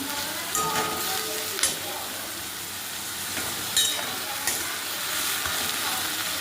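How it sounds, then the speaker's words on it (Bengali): Onion frying in a pan for a village-style chicken curry, a steady close sizzle with a few louder stir-scrape bursts across the clip, no talking. "পেঁয়াজটা একটু ভাজা হয়ে যাবে।"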